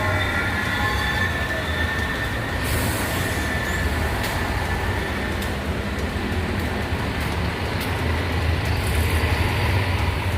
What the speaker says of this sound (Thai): รถไฟฟ้า